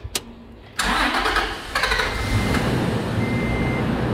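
A car engine cranks during a fuel pump test, a short whir followed by the engine catching and running steadily at close range, with a faint hum continuing throughout.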